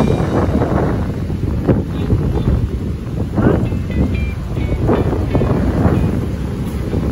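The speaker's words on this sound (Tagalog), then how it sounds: "ang lakas ng hangin dito mga kabayan, yung ampas ng tubig sa siwol mga kabayan." Strong wind buffets the microphone at the Manila Bay seawall while waves surge and splash against it, a loud continuous roar with repeated bursts of spray.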